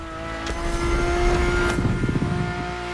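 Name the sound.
Ferrari F50 V12 engine in video game The Crew Motorfest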